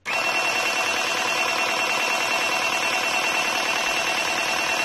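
A Tamiya airbrush compressor switches on and runs with a loud, steady electric hum and whine that holds unchanged after a sudden start, with no speech.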